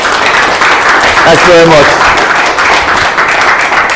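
A mentorship session audience gives a speaker a round of applause, dense clapping filling the room throughout while a voice talks over it partway through.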